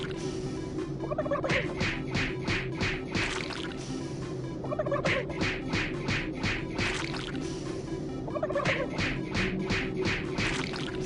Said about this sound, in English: as much as I'd love to keep punching turkeys all day